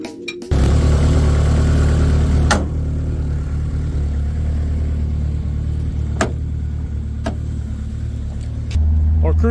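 A 2002 Toyota MR2 fitted with a replacement muffler drives around the block, its engine giving a steady, close, low drone at cruising speed, with a few sharp clicks over the continuous exhaust note.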